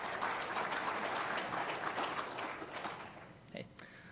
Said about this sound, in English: Give yourselves a round of applause because you deserve it.